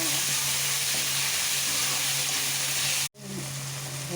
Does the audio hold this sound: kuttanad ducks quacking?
no